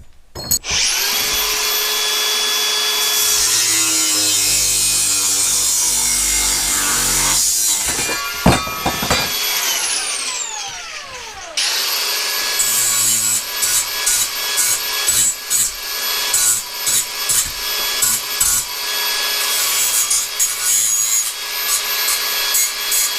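Metal being cut to size for a DIY welding cart, a harsh, loud whining grind of a power tool that runs steadily, stops briefly, then resumes with rough scraping bursts, alone without talk.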